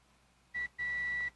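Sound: multimeter continuity buzzer beep

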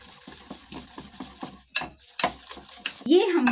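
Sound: beating oil and sugar together in a bowl

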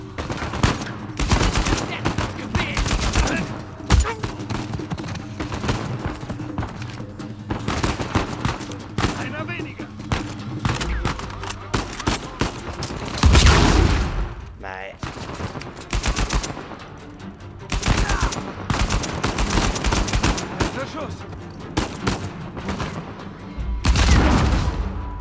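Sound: gunfire in the video game Uncharted 4

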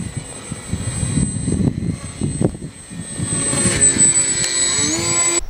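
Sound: RC plane flying with twin Grayson 2212 motors

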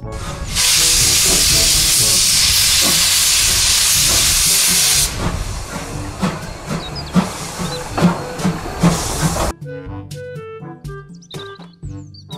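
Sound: steam train hissing

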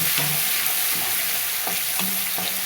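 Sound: garlic frying in oil while stirred

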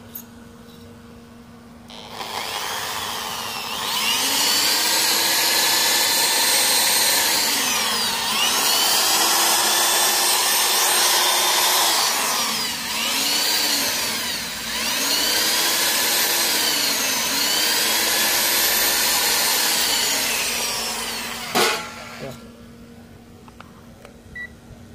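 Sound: electric drill running

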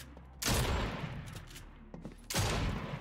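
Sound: gunfire from a video game aim course

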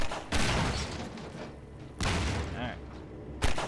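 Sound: gunfire from a gun in the video game Half-Life 2

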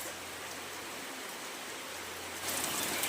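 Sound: heavy rain falling

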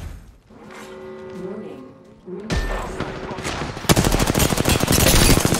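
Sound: gunfire in the video game Apex Legends

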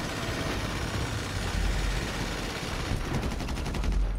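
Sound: gunfire in GTA video game

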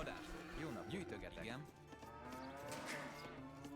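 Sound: cows mooing in Age of Empires video game

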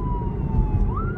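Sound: ambulance siren passing by

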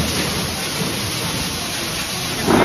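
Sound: heavy rain outside

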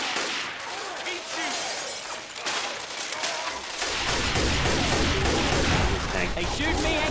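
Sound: gunfire in Left 4 Dead 2 video game

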